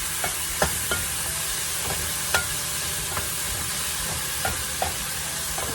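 Mushrooms and dry sherry reduce in a hot pan, a steady close sizzle with a few soft scraping stirs at intervals and no speech.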